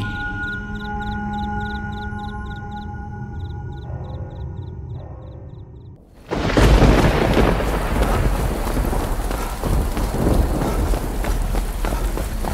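Heavy downpour with rumbling thunder, used as a sound effect in a Bengali village ghost story; a quieter, tonal opening gives way halfway through to a sudden, loud, steady roar of rain that continues to the end.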